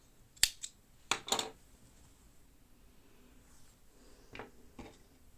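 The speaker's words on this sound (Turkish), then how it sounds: "ipimi kesiyorum" Scissors snip through crochet yarn, with two or three crisp, close cuts early on and a couple of fainter snips later in a quiet room.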